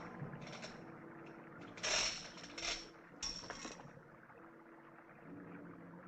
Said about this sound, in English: That's the noise of the sewer, friend.